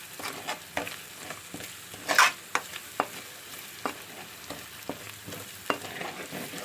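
Fish masala and coriander powder frying in a pan for fish curry, with soft steady sizzle and scattered scrapes and clinks of a spoon stirring, close by, no talk.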